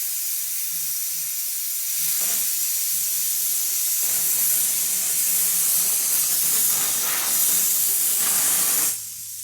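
Helium hisses loudly and steadily from a balloon fill valve during a pico balloon launch, a broad rushing noise that holds for several seconds and then cuts off near the end.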